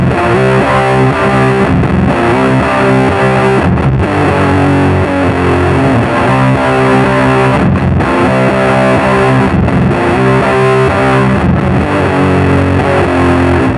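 Heavy distorted electric guitar riffs played through a 180 watt KT88 tube amplifier running four KT88s and three 12AX7s with pedals for doom metal, loud, dense and continuous with brief rhythmic breaks between phrases.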